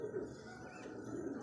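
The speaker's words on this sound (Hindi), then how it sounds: "काफ़ी सारे कबूतर पाल रखे हैं हमने" Pet pigeons coo softly and steadily in a continuous low murmur, with several birds overlapping at moderate distance and no talk.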